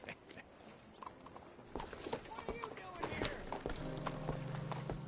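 Horse hooves clip-clop in the Red Dead Redemption 2 video game, irregular soft thuds that grow steadier and a bit louder, mixed with ambient game noise and a low hum late on.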